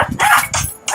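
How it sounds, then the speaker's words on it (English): A roughly 100-pound dog barks indoors in a building, a quick run of three or four sharp, loud barks in close succession with no talk. "If you hear something in the background, that's our dog Pucho in the building"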